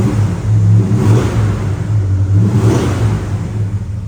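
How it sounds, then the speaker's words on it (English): The engine of a 1968 Dodge Charger idles with a deep, steady rumble and is revved twice, each rise and fall clear and close. No voices are heard. "Give it a rev too."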